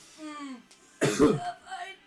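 A voice imitates a short, rough cough, a brief burst of throaty hacking following a moment of quiet speech.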